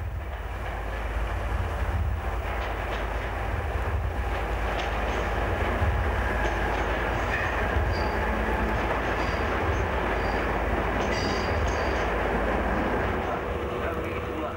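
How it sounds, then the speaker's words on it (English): Class 307 electric multiple unit train at Shoreditch on the East London line, a steady rumbling rail roar with faint clatter lasting the whole stretch, distant, with a voice talking over it. "At Shoreditch, on the East London line, a Class 307 can be seen in the distance."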